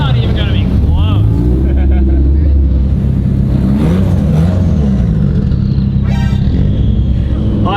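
Audi R8 sports car fitted with a full titanium race exhaust, without valves, accelerating with a loud, dense engine roar that rises and shifts in pitch, heard close up while a person talks over it.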